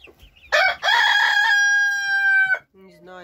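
A young Leningrad Golden rooster gives one loud, close, two-second crow, followed by softer clucks from nearby chickens.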